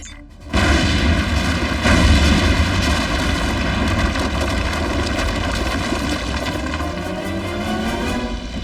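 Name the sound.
fireworks explosions in Transformers Prime cartoon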